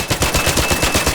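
A Rattler assault rifle fitted with attachments, including a horizontal grip, fires in the Arc Raiders video game, a loud, rapid automatic burst of evenly spaced shots right up close with no speech.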